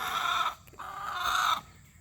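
Chickens cluck inside a backyard coop and fenced compound, giving two close, fairly loud bursts of clucking separated by a short gap and standing alone without talk.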